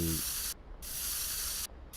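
Spray paint can hissing in the video game Schedule I, two long bursts of bright, loud hiss separated by short breaks, with no talking.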